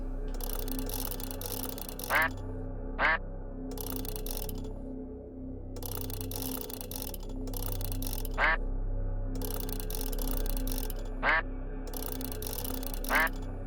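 Quacking of a game duck in the puzzle game Forgotten Hill Disillusion, short repeated calls in pairs and singles spread across the clip over a droning background music loop.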